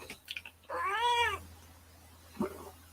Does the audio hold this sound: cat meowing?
yes